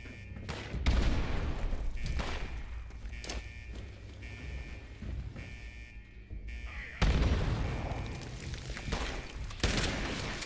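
A thrown grenade in Fallout 76 bounces back and detonates, sharp blasts and gunfire-like bursts breaking out over rumbling noise, with a loud burst near the start and another later.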